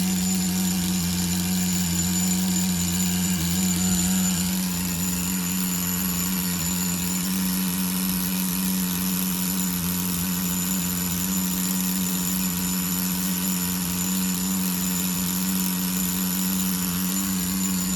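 A Tamiya TGS-R nitro engine in a Subaru on-road RC car runs steadily at a loud, high-pitched buzzing idle for the whole stretch, close up and without talk.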